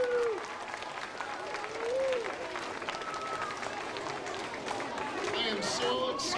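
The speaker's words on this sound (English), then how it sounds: "Would you please give a nice round of applause to all your great music teachers?" Applause from a school audience for their music teachers during a Music In Our Schools Week event, a steady wash of many hands clapping with faint whistles and crowd noise throughout.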